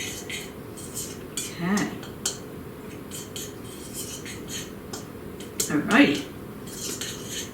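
A utensil clinks and scrapes against a bowl while mixing ingredients for low-carb air fryer pickles, with two louder clattering bursts amid softer tapping, and someone speaks briefly.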